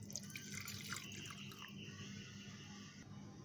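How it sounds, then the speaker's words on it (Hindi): Two cups of water poured into a pot for a home remedy, a steady trickling and splashing stream heard close and alone for a few seconds. "इसमें 2 कप पानी डालें"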